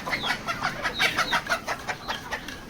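Layer hens on a poultry farm cluck in a quick, uneven string of short calls, close but fairly soft, with no talking.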